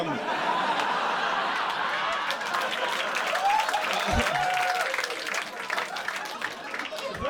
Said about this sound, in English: Odd applause